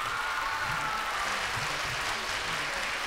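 Studio audience applauding steadily during a Ramazan game show, a dense even clatter of clapping filling the whole stretch with no voices above it.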